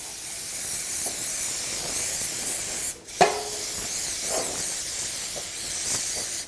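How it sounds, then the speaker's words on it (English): Cooking spray hissing into a medium-small baking pan, a steady sustained spray broken by a brief pause midway, then resuming with a few small clinks. "You get a medium to small size baking pan and you spray and"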